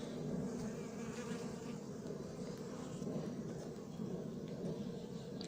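Honeybees buzzing around a hive being moved near Fontainebleau, a dense steady hum of many bees close by, without talking.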